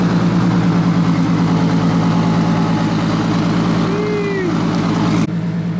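Turbocharged 2JZ swap engine, 600+ horsepower, idling loud and close, a steady lumpy low-frequency rumble with a brief whistle near the end.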